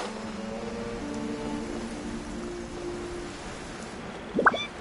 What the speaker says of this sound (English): stay out in the rain for too long.